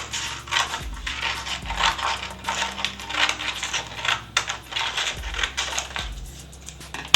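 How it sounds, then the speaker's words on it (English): Sandpaper is cut to the width of a wooden sanding block, a close series of crunchy, scratchy tearing strokes with soft knocks and pauses between them, no voices. "So what I like to do is just cut the sandpaper to be the same width as the block."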